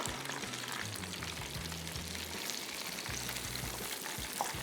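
Chicken breast frying over low heat gives a steady, even sizzle and crackle that runs throughout at moderate volume, with no speech.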